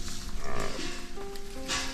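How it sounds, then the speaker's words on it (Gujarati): Herd of water buffaloes returning from grazing, with several low bellowing moos rising and falling across the clip amid a busy outdoor background. "આ બધી ભેંસો તમે જુઓ."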